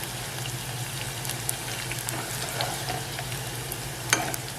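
Small onions frying in a pan for a Kannur-style koottukari, with a steady soft sizzle, occasional stirring scrapes and a sharper clink near the end, close and moderately quiet.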